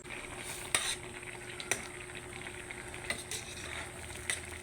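Green beans and eggplant sautéing in a little oil, a quiet continuous sizzle with occasional sharp clinks and scrapes of a utensil against the pan, no one speaking.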